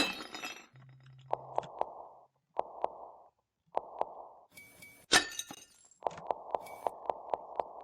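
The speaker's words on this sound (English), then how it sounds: "the plate smashing sound happens" Plates smashing in the horror game Faust Alptraum come as a sharp shatter followed by repeated short glassy clinks in quick bursts, with a brief low hum and quiet gaps between them.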